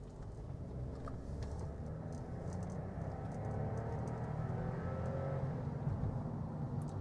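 A Skoda Slavia sedan accelerates hard in manual sports mode, its engine a steady, fairly faint rising whir and drone heard from inside, with no talk over it.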